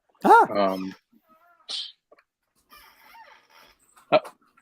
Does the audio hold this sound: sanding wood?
no